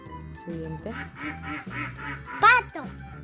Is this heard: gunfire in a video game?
no